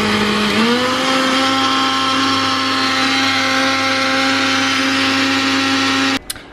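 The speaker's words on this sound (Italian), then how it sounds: "adesso lavo la frutta e poi tutto nel frullatore" An electric blender runs continuously with a loud, steady motor whine as it blends fresh fruit into a smoothie, the pitch rising slightly as it spins up, then cutting off abruptly near the end.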